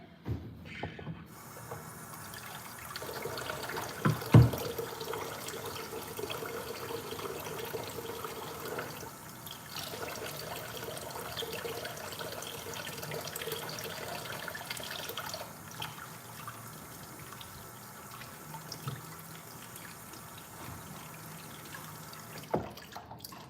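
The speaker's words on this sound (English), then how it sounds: "I'm gonna wash my hands real quick." Water runs from a tap for hand washing, a soft steady splashing stream that holds for about twenty seconds. It stays faint and alone, with one or two brief louder knocks early on.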